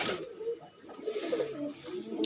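Andhra breed pigeons coo in low, wavering murmurs that run steadily and close by, with faint background rustle and a brief sharp click near the end.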